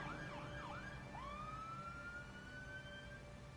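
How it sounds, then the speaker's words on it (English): Ambulance siren in Telltale's Batman video game, a wailing tone sweeping up and down before settling into a long rising note, fairly faint over a low rumbling street backdrop. "I think that ambulance spawned a little late."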